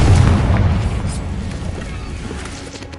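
A Confringo explosion spell goes off in a wizard video game: a loud, dense boom that bursts at once and rumbles away over a few seconds.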